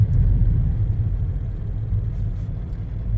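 A car creeps along at about 20 to 25 km/h through a heavy blizzard, giving a steady low engine and road rumble that fills the interior without voices.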